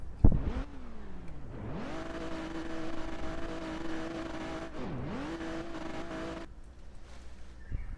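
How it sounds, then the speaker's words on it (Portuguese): A car in the Roblox game ERLC revs and accelerates with a droning engine tone, dips and climbs again as it tumbles, with a sharp impact at the start and a quieter tail at the end. "Capotei o carro, gente."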